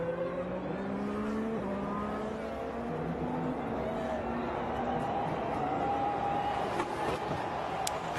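Sergio Pérez's Formula 1 car runs on track in Mexico qualifying, a steady high-pitched engine whine with shifting gear tones against a constant race-circuit roar, while a commentator talks over it.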